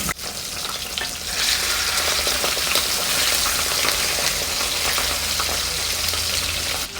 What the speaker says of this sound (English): So while the fish is cooking